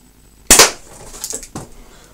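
A single sharp shot at a target during a TPS accuracy test, a loud close crack followed by a few fainter knocks and clicks.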